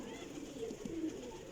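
Kasuri flying pigeons, a lot of fourteen or fifteen birds, coo faintly in the background, soft low murmurs blending into a quiet ambient hum.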